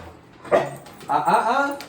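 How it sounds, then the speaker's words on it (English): Dog barking indoors during a training session, two short close barks with a whimpery, yipping quality and a brief gap between them. "when I hear that bark like that"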